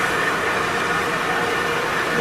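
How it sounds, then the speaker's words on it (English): Tour bus engine noise on a Johannesburg city route near Gold Reef City: a loud, continuous, even drone and rumble that fills the space without a break. "bus noise."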